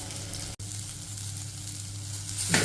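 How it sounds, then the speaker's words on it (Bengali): Cauliflower pieces frying in a little oil in a pan, giving a steady, soft, even sizzle up close, with a brief gap near the start and a louder burst toward the end. "ফুলকপিগুলো ভাজা শুরু হয়ে গেছে, লাল লাল হয়ে গেছে।"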